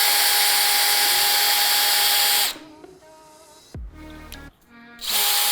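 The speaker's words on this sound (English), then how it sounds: "and drill your hole." A power drill whirs steadily, then winds down and changes pitch briefly before spinning up again as a hole is drilled into wood while building a picnic table.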